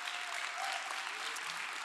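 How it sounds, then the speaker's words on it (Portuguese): A room of students in a Bible course bursts into steady, dense applause praising the Lord, close and sustained for the whole moment with no pause. "aplauda ao Senhor, porque Ele ressuscitou."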